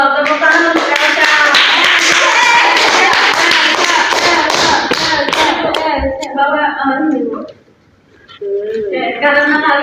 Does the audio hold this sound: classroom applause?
yes